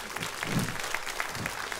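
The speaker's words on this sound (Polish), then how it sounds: "wielkie brawa prosimy" Brief burst of audience applause at a staged stage show with ballet students and children in Trzebinia, a dense, steady patter of many hands heard from within the crowd, with a faint voice briefly mixed in.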